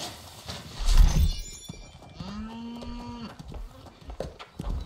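A cow in the New World video game lets out a single drawn-out moo mid-clip, with scattered game sounds and thuds around it and no speech.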